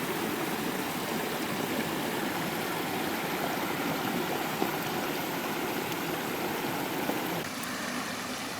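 Tub Run creek water flowing over rocks, a steady, close, continuous rushing and babbling with no talk.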